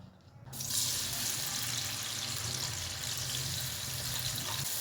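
Onions drop into hot oil and a loud, steady hiss of frying starts abruptly after a brief quiet moment. The sizzle then stays at an even level.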